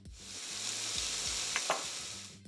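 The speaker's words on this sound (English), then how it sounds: "Into a large frying pan goes some onions, garlic, diced capsicum, ground cumin, and chili powder." Onions, garlic, diced capsicum, ground cumin and chili powder fry in a large pan, giving a steady close sizzle with a couple of brief stirring scrapes partway through.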